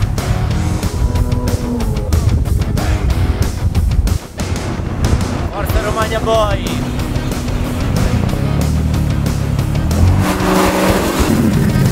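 An American car, built in Venice, California, revving its engine at a US car reunion, with loud repeated throttle blips and rising engine roars, a brief dip, then sustained throaty rumbling close by.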